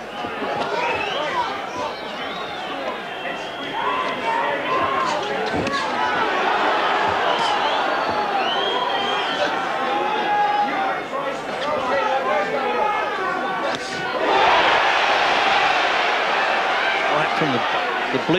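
A boxing crowd in the stands at Old Trafford during the Chris Eubank vs Nigel Benn bout, a dense constant roar of chatter and cheering that swells louder near the end, with a commentator talking over it.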